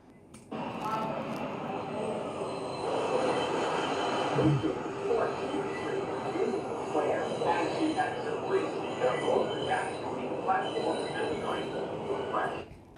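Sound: train passing

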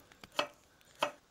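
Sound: chopping dandelion and burdock roots

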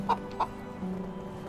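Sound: hens clucking in the video game Medieval Dynasty

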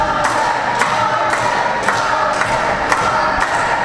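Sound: wrestling fans cheering in arena

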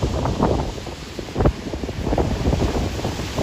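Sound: strong gusty wind at the Taitung seaside

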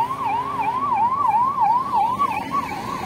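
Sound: ambulance siren approaching at a road junction

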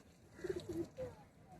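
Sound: Madras pigeons cooing

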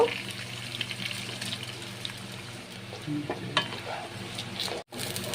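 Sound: rice being stirred and fried in pan

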